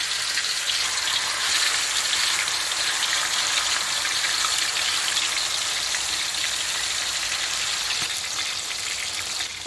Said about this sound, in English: the next step is to fry the marinated chicken. So place them into the oil.